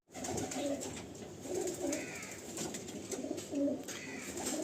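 Pigeons of a Madrasi tournament breed coo repeatedly inside a loft, soft throaty calls overlapping in a steady, close chorus with no talking.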